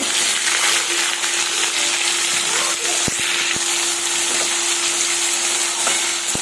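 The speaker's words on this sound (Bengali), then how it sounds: "কেটে ধুয়ে রাখা সবজিগুলো সব এই তেলের মধ্যে দিয়ে দেব" Chopped vegetables fry in hot oil in a wok, giving a loud, steady, close sizzle with a few sharp clicks from the utensil.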